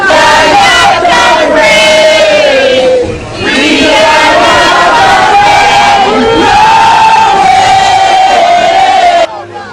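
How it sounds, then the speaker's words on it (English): A large crowd of protesters against tax measures chants and yells in unison, loud and close, with rhythmic swells of massed voices. "They stood their ground chanting even louder, demanding audience with the Prime Minister."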